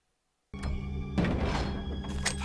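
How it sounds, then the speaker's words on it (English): In the stealth game Thief: Deadly Shadows, a flash bomb is thrown: a sudden thunk breaks the silence, then a bright hissing burst flares over a sustained tonal backdrop. "I could flash bomb him and flee"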